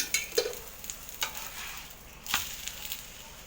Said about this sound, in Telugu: ఇలానే కాల్చుకోవాలి మొత్తం చపాతీలు.